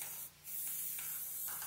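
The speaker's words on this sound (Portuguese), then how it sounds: "ainda sobrou aqui um pouquinho de spray" An aerosol can sprays gold paint onto picture frames in a continuous close hiss, briefly cut by a short pause near the start before resuming steadily, faint and soft overall.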